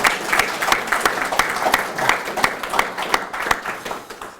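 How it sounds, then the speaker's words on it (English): Audience applause closing a chess masterclass with Nigel Short and Elisabeth Paehtz at the Gibraltar Chess festival, a steady dense wash of clapping from a sizable crowd with sharper individual claps standing out, sustained throughout. "a big round of applause once again for Elisabeth Paehtz and Nigel"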